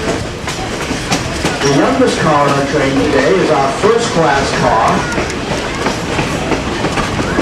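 Passenger carriages of the Essex steam train rattle and clack steadily along the rails, a continuous loud rumble with rhythmic wheel clicks, while someone narrates over it.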